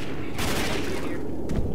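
Gunfire in Left 4 Dead 2, a fast dense burst of shots with a busy mix of game noise, a short clip with a second crack near the end.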